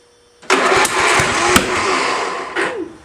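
A Murray riding tractor engine, its carburetor primed with a squirt of gas, turns over and suddenly fires up, then runs loud and close with a rough, uneven roar, surging again near the end.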